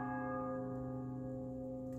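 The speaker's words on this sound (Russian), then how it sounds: "Вот так звучат колокола" Monastery church bells on an island in Montenegro ring in the morning with a sustained, resonant tone that hangs and slowly fades, heard alone at moderate volume.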